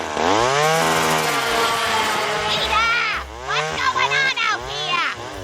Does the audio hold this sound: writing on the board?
no